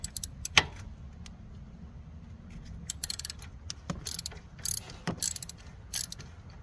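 A 17mm socket wrench loosens the oil drain plug on a 50cc/150cc scooter, giving sharp, scattered ratcheting clicks and metallic taps at close range over a quiet background.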